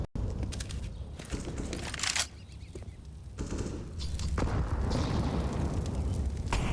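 A grenade blast during a Counter-Strike match on the Inferno map, sharp bursts and booming impacts amid sustained gunfire and clatter, dense and loud from start to finish.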